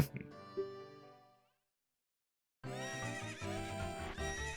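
A horse whinnies in The Legend of Zelda: Ocarina of Time, a sharp rising neigh that tapers into silence before game music and effects resume loudly.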